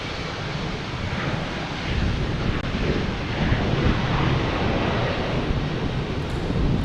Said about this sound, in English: here's Alaska Airlines heading to Portland